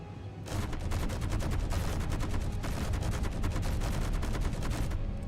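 Space Engineers gunfire and explosions: rapid, dense bursts of shots and booms follow a brief quiet start, loud and sustained with short gaps.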